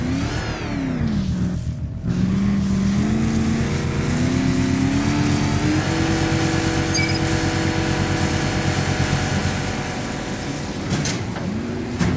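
The Batmobile's engine in Batman: Arkham Knight drones and revs steadily, the pitch climbing in stages through the first few seconds and then holding a loud, sustained growl with no voices.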